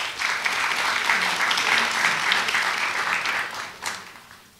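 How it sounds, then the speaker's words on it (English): Sustained applause from an audience at a college spring symposium, a dense steady wash of many hands clapping for colleagues that fades toward the end, with a faint voice underneath. "A round of applause for our colleagues."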